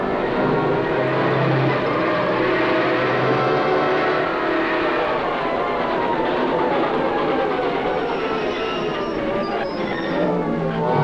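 Steady loud rumble of a train approaching a crossing, a dense continuous roar with metallic rattling and faint squealing that holds throughout without a break.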